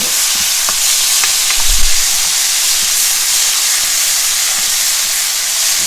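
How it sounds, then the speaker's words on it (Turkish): Spinach sautés in a pan with its released water, giving a loud, continuous sizzle and steamy hiss, with brief stirring knocks near the start and no talk. "Bunu da birbirleriyle harmanlayarak kavuruyorum"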